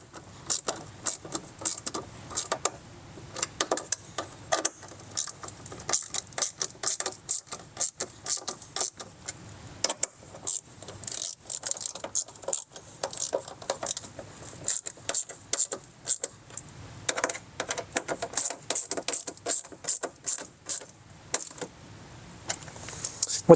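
Screws are driven in with a powered driver to secure Rokblokz mud flaps on a 2019 Ram 3500 dually, many short close rattling bursts repeating in an uneven rhythm with quiet gaps between them.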